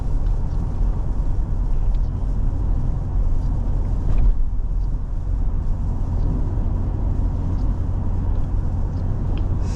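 A 2024 Toyota Land Cruiser 1958 on a test drive heard from inside the cabin, a steady low engine and road rumble with tire and wind noise, one brief louder bump midway, no talking.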